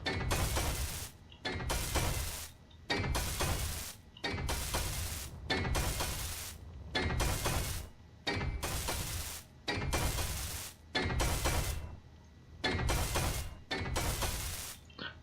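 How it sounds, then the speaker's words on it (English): Welding tool working in the survival game Space Engineers, with about twelve repeated bursts of loud, crackling hiss, each roughly a second long and separated by short gaps, close and steady with no talk. "I will simply continue to weld with what we have left"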